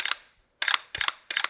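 Mantis laser dry-fire system firing from a real AR-15, heard as three sharp mechanical clicks with metallic snap, spaced about a third of a second apart after one initial click, close and distinct with no talk.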